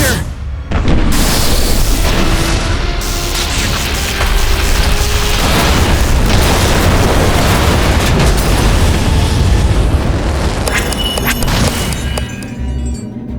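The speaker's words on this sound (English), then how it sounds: "That explosion was massive" A massive cartoon explosion blast from a Sonic animation, a loud sustained roar of booming rumble and debris filling the whole stretch, with faint voices mixed underneath.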